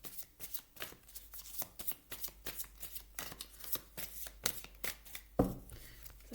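Oracle cards, the Lise Bartoli light deck, are shuffled by hand in a steady run of crisp riffling slaps and flicks, close and fairly loud, with no voices.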